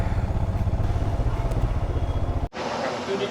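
A motorcycle engine chugs in a pulsing rumble as the bike slows to pull over on the road, then cuts sharply to a quieter, steadier background hum near the end.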